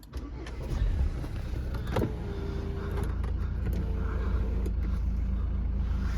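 A Volvo V40 2.0 D4 diesel engine idles with a low, steady rumble inside the car, joined by a few brief clicks and the short whine of an electric motor.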